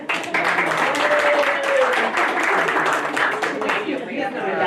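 Applause from attendees at a school board meeting as the chair arrives, a full, fairly loud round of clapping that runs the whole time with voices mixed in.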